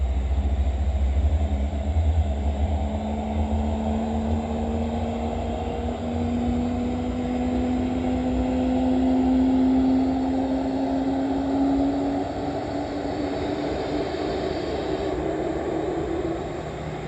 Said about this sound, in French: C'est l'heure pour le deuxième moteur de démarrer.